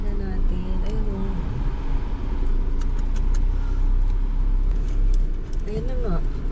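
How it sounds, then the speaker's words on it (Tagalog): A car stuck in sand on a beach outing spins its wheels, with engine revving and whining rising and falling under background voices and wind. "Maandar yung gulong nila sa unahan, hindi sila makaalis."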